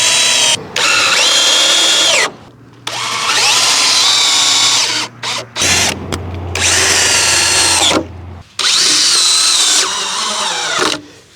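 Bursts of a cordless power drill driving 3 1/8 inch screws into 2x4 wood legs, several runs of a few seconds each, with motor pitch rising and falling and short pauses between, loud and close.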